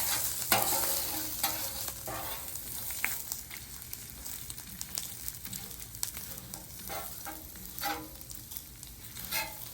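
Bacon fries on a Blackstone griddle during a big breakfast cook, a steady close sizzle broken by sharp spatula scrapes and clicks throughout, with no voices.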